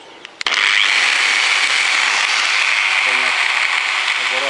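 A Bosch GWS 850 CE angle grinder starts after a couple of clicks and whines at steady high speed, loud and close, with a faint gear rattle that points to chipped gear teeth.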